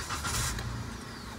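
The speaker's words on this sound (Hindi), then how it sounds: "तो एक बार मैं आपको इग्निशन ऑन करके भी दिखाता हूँ कि इंजन की कितनी साउंड जो है वो अंदर की तरफ आती है।" Inside a 2022 Maruti Wagon R VXI CNG, the engine hums faintly and steadily at idle just after ignition, a low muffled drone heard from the cabin.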